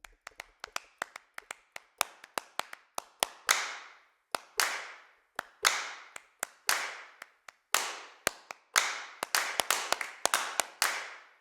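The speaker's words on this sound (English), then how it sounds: "I'm a big fan of the claps on any of these." Sharp 1980s-style sampled drum-machine handclaps from an Abbey Road 80s Drummer kit hit in a steady, repeating pattern, each crack trailing into a short gated reverb tail, played alone and fairly loud.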